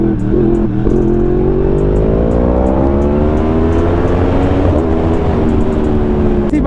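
Yamaha YZF R1 motorcycle engine running loud and close, its revs climbing steadily in a smooth rising whine over a deep rumble, continuous throughout with no talking.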